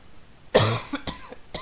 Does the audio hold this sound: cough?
yes